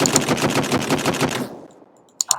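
Rapid sniper gunfire from the Krunker video game, a loud dense string of shots for about a second and a half, then near silence and a few sharp closing clicks.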